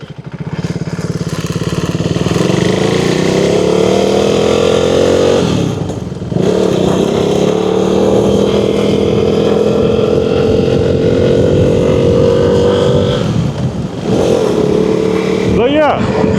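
A KTM Duke 390 with a freshly installed clutch rides along loudly, its engine note rising steadily through gears with brief dips at shifts and wind rush throughout, the rider talking over it.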